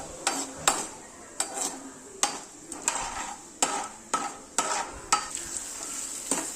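Urad dal and mustard seeds frying in hot oil for a bitter gourd dish, a steady sizzle broken by repeated sharp scrapes and taps of a spoon against the pan, close and fairly loud with no talking.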